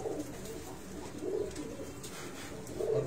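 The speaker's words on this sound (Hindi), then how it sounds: "आप देखो कबूतर" Breeder pigeons in a loft in Faisalabad coo softly, with low, rolling murmurs repeating through the clip and no talking over them.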